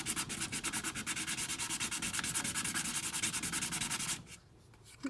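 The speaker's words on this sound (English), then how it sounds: "So what I'm going to do first is I'm going to sand my pop socket." Sandpaper scuffs a pop socket in rapid, even back-and-forth strokes, a close rhythmic rasp that continues for about four seconds before stopping.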